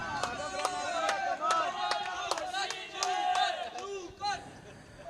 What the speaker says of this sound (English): Looks like the crowd is really playing their part over here.